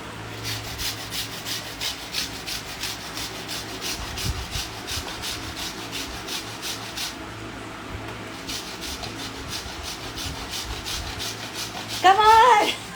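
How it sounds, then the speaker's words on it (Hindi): A block of jaggery (gur) is grated by hand for halwa, giving a steady, close rasping scrape that repeats in quick even strokes, with brief voices and a short louder clatter near the end. "माया अभी गुड़ घिस रही है।"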